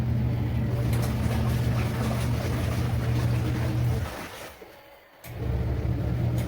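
Kuppet washing machine on its spin cycle, with a loud, steady motor hum and drum rumble that briefly dips and quiets before resuming at full strength, heard close up.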